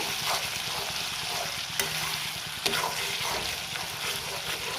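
Pasta sauce simmering and sizzling in a pan while being stirred continuously, a steady bubbling crackle with occasional sharp scrape or clink of the utensil against the pan.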